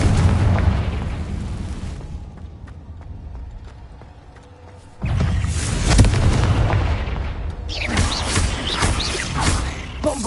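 A Confringo spell explosion in the Hogwarts Legacy video game: a loud, broad blast that opens the clip and fades, then a second heavy roaring burst, followed by a crackling, rumbling tail, with no speech.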